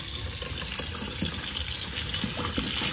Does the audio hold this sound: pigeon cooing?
no